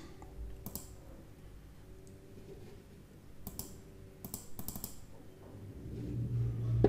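A few light computer mouse clicks, some in quick pairs, sound faintly and close against a quiet background while working in TradingView charting software; no one speaks.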